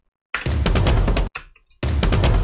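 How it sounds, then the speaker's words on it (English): Tom drum loop in the build-up of a melodic bass track, rapid punchy tom hits rolling in a dense pattern, briefly cutting out before returning, loud and alone. "at the end of the build up, we have a tom loop"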